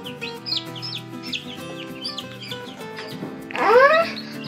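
A mother hen clucks in soft, low bursts amid faint chick peeps, ending with a louder rising call near the end.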